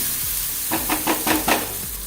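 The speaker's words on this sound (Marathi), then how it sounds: "कांदा एक लहानसा बारीक चिरून घेतलाय मी। चांगलं परतून घेऊया।" Finely chopped onion sautés in a pan, a steady sizzle with a few quick stirring scrapes in a short rhythmic run in the middle, close and fairly loud.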